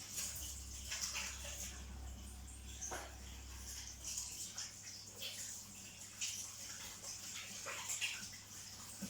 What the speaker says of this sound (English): So I'm going to just wash my hands